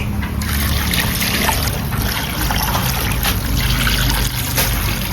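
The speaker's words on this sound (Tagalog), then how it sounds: "Maglagay tayo ng tubig." Water pours steadily into a pot for boiling pork leg, a continuous close trickling and splashing that runs unbroken for several seconds with no voices.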